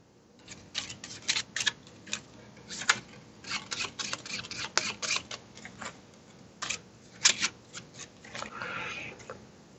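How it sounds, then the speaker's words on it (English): Rapid, crisp riffling and snapping of a deck of cards for the DOOM board game in uneven bursts, close by and fairly quiet, repeating over several seconds. "I'm going to shuffle the deck"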